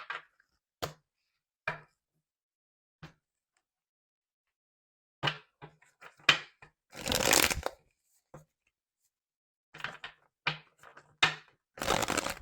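Tarot cards being shuffled by hand, quiet close riffles and taps in short scattered bursts with long silent gaps, and a longer rustling flurry near the middle.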